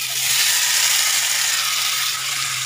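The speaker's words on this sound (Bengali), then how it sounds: "এবারে আমি দিয়ে দেবো কড়াইতে।" Soybean chunks go into a hot wok for a Bengali soybean kosha curry, giving a steady, loud, broadband sizzle of frying with no break and a small clink near the end.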